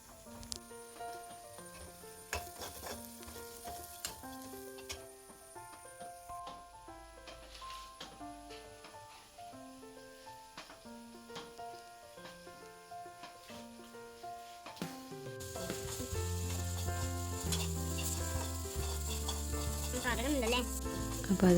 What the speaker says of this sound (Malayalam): ബിരിയാണി റൈസിലിടേണ്ട ഉള്ളി ഗോൾഡൻ ഷെയ്ഡിൽ വാട്ടിയെടുക്കുകയാണ്.